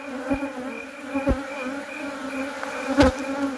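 Honey bees at an open hive in Nigeria during colony inspection, a steady close buzz of many insects with a few louder passes of individual bees near the ear.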